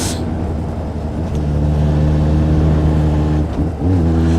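A motorcycle engine runs with the clutch pulled in, holding a steady, loud drone. Near the end a quick throttle blip makes the pitch dip and then rise. No one speaks.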